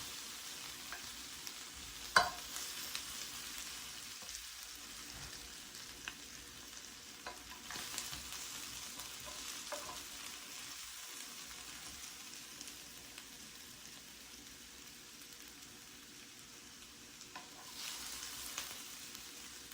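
Steak and steakhouse-style potatoes pan frying with garlic butter: a steady hiss and sizzle throughout, with occasional scraping and stirring clicks, close and moderately quiet, no talking.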